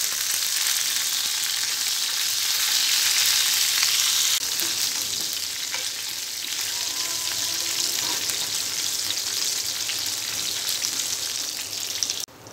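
Hot oil crackles loudly as a tempering of cumin, mustard seeds, garlic, curry leaves and dried red chillies fries, a dense rain-like sizzle that stays steady throughout.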